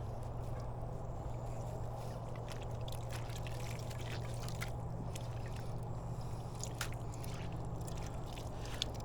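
Water poured from a container to flood a rotted banana plant corm, a soft, steady trickle and splash with small drips, faint and close, no talk.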